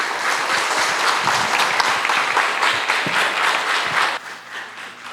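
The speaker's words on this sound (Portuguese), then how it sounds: "Vamos aplaudir o nome do Senhor Jesus?" A church congregation applauds at a Foursquare worship service, a dense, steady wash of clapping that carries on for about four seconds, then drops off sharply into quieter room sound with scattered claps.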